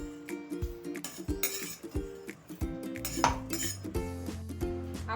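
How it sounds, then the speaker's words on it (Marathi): Roasted pickle spices for mango and jackfruit pickle are scraped out of a hot kadai into a mixer jar, with a steady run of close metal clinks and spoon scrapes against the pan. "आपण हे मिक्सरच्या पॉटला काढून घेऊया."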